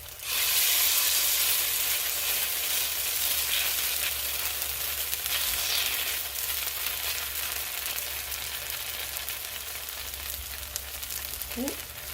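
Squash pancakes frying in oil in a pan over medium heat, giving a steady, close hiss that fades slightly over time, with a faint clink of utensil near the end.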